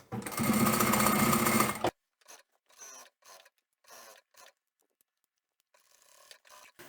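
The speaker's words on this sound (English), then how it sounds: "Going to come all the way down and do that top stitch." Sewing machine top-stitching a fabric pocket on a hanging shoe rack, one loud, close, fast run of stitching lasting about two seconds, followed by quieter intermittent handling and rustling of fabric.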